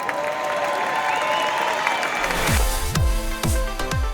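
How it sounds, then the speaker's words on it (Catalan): Applause from a crowd at a village festival in Felanitx rises under festival music, with some cheering. Loud, sweeping electronic bass thumps repeat at a steady beat near the end. "Un fort aplaudiment per vosaltres!"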